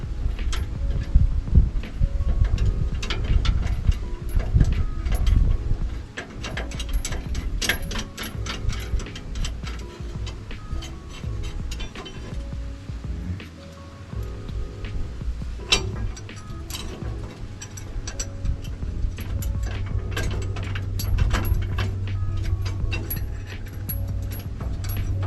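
A ratchet works on the differential bolts of a 2005 Chevrolet Silverado while a jack holds it up, giving bursts of quick mechanical clicking with metallic knocks and shuffling between them, close and without talk.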